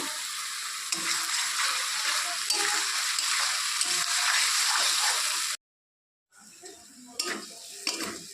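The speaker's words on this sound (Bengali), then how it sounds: "মশলাটা ভালো করে একদম ভাজা ভাজা হয়ে গেছে, কষানো হয়ে গেছে" Spice paste with chilli powder and salt fries in a pan for a fish curry, a close, continuous sizzle with stirring scrapes, broken by a brief silence before quieter sizzling and utensil knocks resume.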